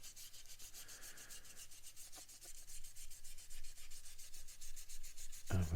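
Soft, steady rubbing of a cloth or brush across a 1/35 Spitfire Mk Vb scale model, lifting off an oil wash; quiet, continuous scrubbing strokes close up, ending in a sharp knock.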